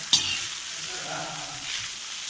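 Egg noodles sizzling and frying in a pan on a stove over a low flame, a steady soft hiss with a brief stir or clatter at the start, close and alone.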